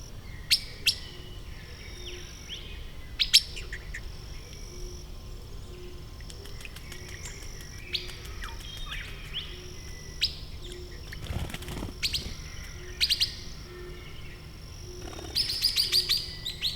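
Swift parrots in Tasmania give repeated high chirps and tweets with occasional wing flaps, scattered through a steady insect hum and growing busier near the end.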